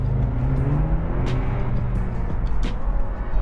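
Steady engine drone from a 2.0-liter turbocharged four-cylinder American muscle car pulling under acceleration, heard from inside the cabin, with a rising low tone and a couple of brief higher hisses.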